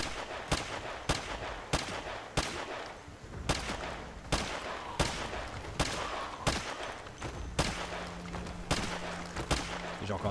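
Rapid bursts of gunfire from the zombie survival video game Project Zomboid ring out in a steady, repeated rhythm of sharp, loud shots across the whole stretch, with no talk over them.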